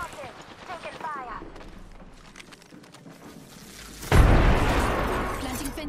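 Gunfire and a heavy boom erupt in Apex Legends combat, the loud burst arriving suddenly after quieter in-game sounds and a spoken voice.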